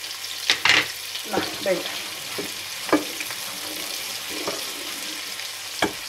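Half a pepper and onion fry in a pan for potatoes with salt cod, giving a steady close sizzle broken by a few sharp scraping stirs, while a voice speaks briefly.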